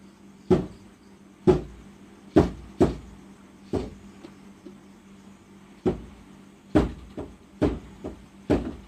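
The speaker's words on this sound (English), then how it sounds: "we begin to hear the knocking, which sounds like one normal knock done every second" Knocking on a front door, about a dozen single sharp knocks spaced roughly a second apart with slight irregularity, each a clear thud against a quiet background with a low steady hum.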